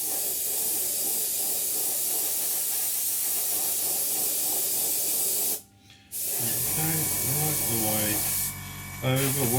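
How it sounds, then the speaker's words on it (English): An airbrush sprays paint in a light pass over the nose of an Academy F-16I Sufa scale model, a steady close hiss that cuts off briefly and then returns in short bursts, with no talking. "So we just spray the nose, and we're just going to do one light pass over it to start with."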